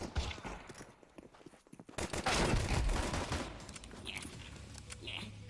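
Rapid automatic gunfire in the Counter-Strike 2 video game, a dense, sustained rattle of shots at moderate loudness, with a player's voice talking over it.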